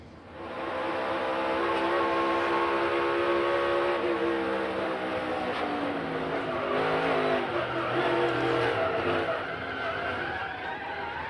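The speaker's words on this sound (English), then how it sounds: "you hear how he picked the gas back up sideways" A NASCAR Cup car at Dover Motor Speedway, sliding sideways on the banking after contact, its engine loud and revving with pitch sweeping up and down as the gas comes back on, tires squealing alongside.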